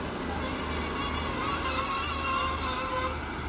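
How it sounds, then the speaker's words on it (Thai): Express train 84 from Trang to Bangkok slowing toward a junction switch, its wheels squealing in a steady high metallic whine over a low rumbling rail drone, continuous and fairly close with no talk. "ขบวนต้องชะลอนะเพราะเดี๋ยวต้องไปออกประแจนะเพื่อเข้า ทางที่ชุมทางหนองประดุกนะครับ"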